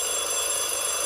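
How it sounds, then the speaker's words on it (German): A telephone rings steadily in a German thriller radio play, a continuous shrill electronic tone heard on its own with no voices. "Das Telefon."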